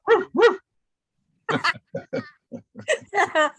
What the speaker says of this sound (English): Sorry, my dog. I told you guys my dog was going to make an appearance in here.